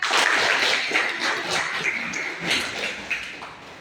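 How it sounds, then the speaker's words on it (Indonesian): A classroom of students claps for a classmate, a busy crackle of scattered hand claps that slowly thins out, with a faint voice underneath. "Oke, beri tepuk tangan buat."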